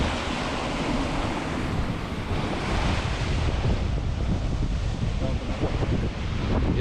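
Big waves crash and spray along a rugged North Sea coast in Scotland, a loud continuous roar of surf mixed with heavy wind buffeting the microphone, with a voice speaking briefly over it.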